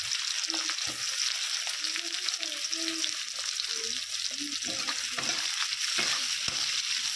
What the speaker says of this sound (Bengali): তেলটা আমার গরম হয়ে গেছে, এবারে দিয়ে দিচ্ছি কেটে রাখা পেঁয়াজ।